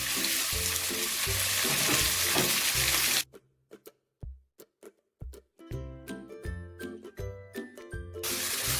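Chicken pieces, about 200 grams, hit a pan of hot oil with garlic paste, setting off loud steady sizzling. The sizzle breaks off for several seconds of scattered clinks and taps, then rushes back up, close and with no voices.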